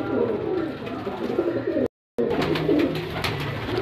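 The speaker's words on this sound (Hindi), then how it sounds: "ये कबूतर आ रहे हैं आहिस्ता आहिस्ता नीचे" Domestic pigeons cooing close by in a loft, repeated low throaty coos layered over one another with a brief cut of silence midway, then more cooing with light flutter and shuffling as birds settle downward.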